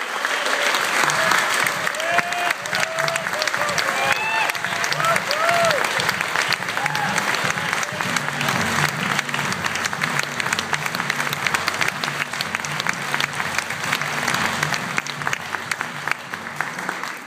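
Sustained applause from an audience welcoming Bjorn Dybdahl as a new CE Hall of Fame inductee, steady clapping that fills the room with a few voices calling out over it.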